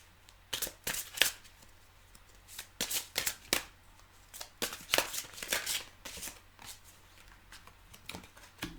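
Tarot cards are shuffled in quick, crisp riffles and slides, with several bursts over about nine seconds. The sound is close and fairly quiet, with no talking.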